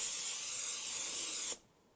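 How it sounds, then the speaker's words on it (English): Cooking spray hisses steadily onto the bottom of a Pyrex baking pan for about a second and a half, close and fairly loud, then cuts off abruptly into quiet. "I'm going to spray the bottom of my Pyrex pan with a little bit of cooking"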